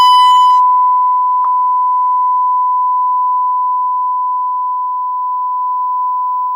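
A loud, steady sine test tone of around 1 kHz holds unbroken for the whole stretch, with a brief click near the start and no voices.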